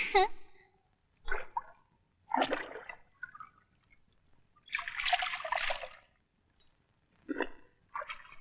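Bathing water is poured out in several separate splashy bursts with short pauses between them, close and fairly loud, as if scooped and tipped over someone's back.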